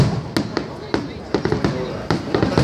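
Fireworks go off in a quick irregular series of sharp bangs and crackling pops, fairly close and loud, with voices in the background.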